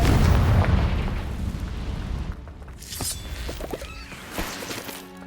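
A Confringo spell from Hogwarts Legacy bursts loudly with a deep booming explosion that rumbles and fades, followed by scattered smaller pops and crackling debris.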